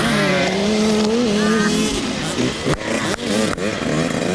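A dirt bike engine revving hard and loud under throttle, its pitch climbing and wavering, then briefly dipping and rising again as the throttle is worked.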